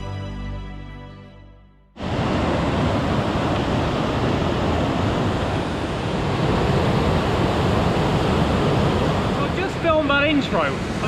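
Waterfall tumbling down a fell in the English countryside, a steady, loud, broadband rush of falling water that starts abruptly after a brief quieter lead-in and continues unbroken, with a faint voice surfacing near the end.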